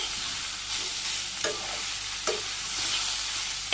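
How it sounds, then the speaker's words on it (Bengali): Vegetables seasoned with salt, turmeric and chili sizzle steadily in a pan while a spoon stirs them, with a few sharp scrapes and clinks of metal against the pan. "আমি নেড়ে গেছে অনেক সময় নিয়ে ভাজি ভাজি করে রান্না করে নিই"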